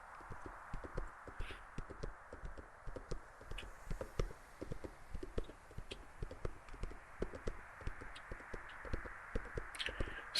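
A donkey's hooves clip-clop steadily as it is ridden along a road near the pools of Bethany, with close, even, rhythmic footfalls continuing throughout and no talk.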